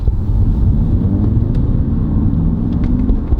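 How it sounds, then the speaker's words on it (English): Inside a Lexus IS hybrid cabin, a synthetic V6 engine sound is piped in as a low, steady rumble under road noise, moderately loud throughout, with a few faint clicks. "You put it on, and it pipes through, getting the noises of a V6, I would say."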